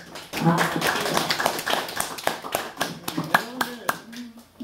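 Audience clapping at a university lifelong-education lecture on autobiography writing, rapid overlapping hand claps with sharp louder slaps near the end, mixed with someone speaking over them.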